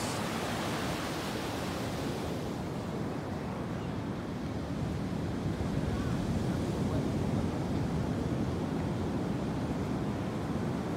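Ocean waves wash steadily onto a beach at Bacnotan, a loud and continuous broadband surf roar with some wind buffeting the microphone, and no voices over it.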